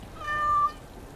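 A single cat meows once in the Dragon Age: Origins video game, a clear, brief, mid-loud meow lasting under half a second over quiet game ambience.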